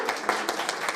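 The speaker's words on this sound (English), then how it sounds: "keep that applause going" Brief scattered clapping from an audience at a university talk, a handful of distinct hand claps in quick, uneven succession.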